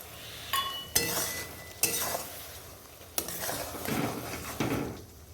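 Spiced eggplant stirred in a pan with a metal spoon, a few distinct clanks of utensil on the pan between steady scraping and soft sizzle, close and moderately loud.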